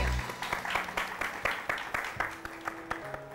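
Audience at an awards show for women farmers clapping in a fairly close, uneven burst of individual claps with distinct sharp hits, while background music and some speech carry on underneath.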